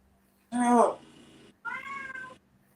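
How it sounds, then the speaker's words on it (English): A house cat meows twice in quick succession, the first cry loud and rising, the second a longer, softer drawn-out mew, close to the microphone with no talking. "See, you're not the only kitty who's doing that, Clue."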